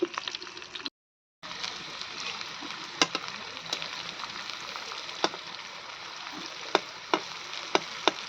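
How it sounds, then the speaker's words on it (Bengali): Teasel gourd (kakrol) slices fry in hot oil in a pan, giving a steady close sizzle with scattered sharp pops and crackles throughout, briefly cut to silence near the start. "তো কাঁকড়ালটা এখন ভাজবো।"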